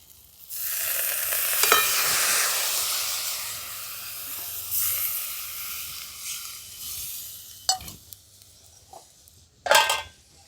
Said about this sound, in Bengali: ভালো করে এটা পোস্তটা মিশিয়ে নিচ্ছি